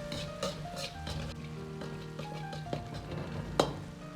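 Chili bean paste and chili powder stir-fried in a wok, with a steady soft sizzle and scraping stirs, a few sharper clinks of the utensil on the pan, no voices.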